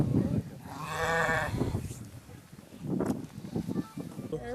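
Sheep bleat several times nearby, loud wavering cries separated by pauses, with some rustling and a voice in the background.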